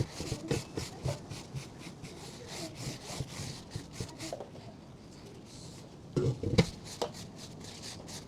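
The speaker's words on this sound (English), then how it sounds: "Apply a thin coat of oil all around, but not too thick. I'm using a paper towel" A paper towel spreads a thin coat of oil over cast iron cookware, making repeated scratchy rubbing strokes in a back-and-forth rhythm, close up, with a brief pause midway before the strokes resume.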